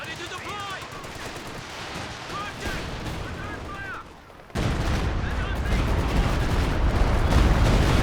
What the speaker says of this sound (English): That was a shocking walking Stuka barrage, way off target.